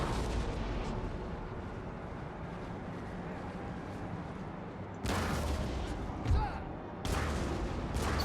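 Artillery guns firing in Napoleon: Total War, a steady dense rumble of distant cannon and battle noise with louder bursts of fire near the end.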